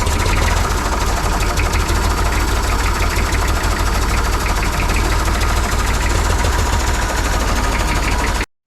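Zetor or IMT tractor diesel engine idling steadily and loudly up close, a continuous low knocking rumble with dense vibration that runs unbroken for about eight seconds before cutting off.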